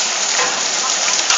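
Hail falls outdoors as a dense, steady, loud patter close by, unbroken by any voices.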